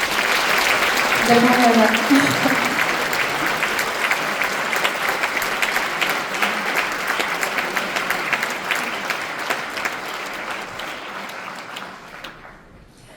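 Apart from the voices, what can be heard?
audience applause at awards ceremony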